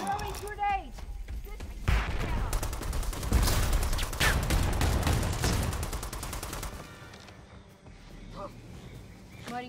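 Grenade blast and sustained gunfire in the Predator: Hunting Grounds game, with dense rapid bursts building into a loud fusillade and short game voice callouts at the edges.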